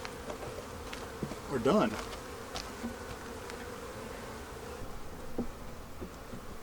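Honeybees buzz steadily around a backyard hive with a newly emerged virgin queen, a low continuous hum, with a beekeeper speaking quietly over it.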